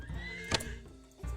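Horses in the video game Rimworld let out a sharp whinny mid-clip over soft clip-clopping hoof sounds, fairly quiet and alone with no talk.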